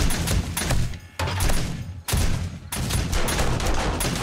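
Rapid bursts of gunfire from the survival game 7 Days to Die during a horde night, loud dense volleys rattling close by, broken by two brief pauses before the shooting resumes.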